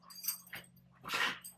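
A puppy at a friend's house gives a few short, soft whimpers and whines, fairly close, with brief bursts separated by gaps and a faint steady hum underneath.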